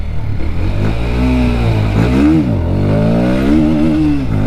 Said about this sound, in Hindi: तगड़ा व्हीली उठा तगड़ा